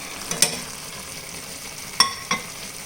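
Grated coconut being stirred into cooked pumpkin curry, a faint low bubbling bed broken by three sharp clinks of a spoon against the pot.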